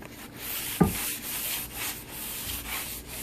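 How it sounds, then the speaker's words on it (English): Close, rhythmic 220-grit sandpaper rubbing on wood between polyurethane coats, strokes swishing back and forth with a single knock partway through. "take the 220 sanding paper and"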